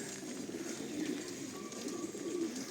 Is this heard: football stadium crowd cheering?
no